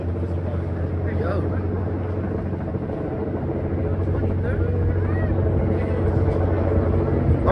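A police helicopter flying overhead produces a steady, continuous rotor and engine drone that stays level throughout, with faint voices in the background.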